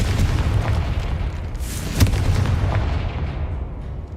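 A fiery Confringo spell in Hogwarts Legacy detonates with a deep rolling boom and a sharp crack around the middle, over a continuous loud low rumble of game sound.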